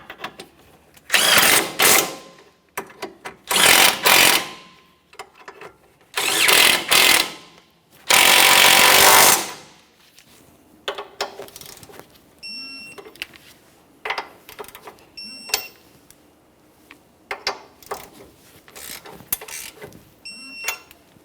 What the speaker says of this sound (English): Let's start by tightening our mounting bolts and then the two nuts.